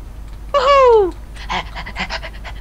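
A Minecraft dog panting in quick breathy bursts after a brief high whining yelp, close and fairly loud in a multiplayer game.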